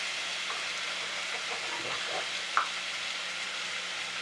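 Pork chops sizzle steadily in a hot pan, a constant even hiss of frying with a few faint clinks and a single brief click partway through.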